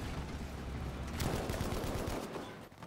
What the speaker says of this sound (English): Bit of suppressive fire.